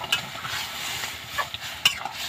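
Pumpkin greens being stirred into a pan of fried ginger, giving a steady soft sizzle with scraping stir strokes and a couple of sharper utensil clicks against the pan, close up and without talk.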